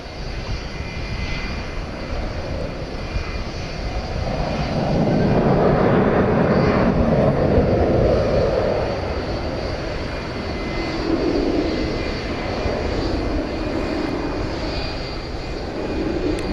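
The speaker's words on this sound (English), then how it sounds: "Might be able to hear the whine in the background." An Airbus A321 at DFW Airport at night, a steady loud aircraft engine roar with a jet whine that swells in the middle and then eases, heard alone at a distance.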